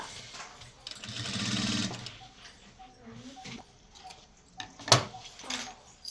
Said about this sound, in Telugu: ఇట్లా ఉల్టా చేసేసేసి మనం పై స్టిచ్ వేసేసుకోవాలి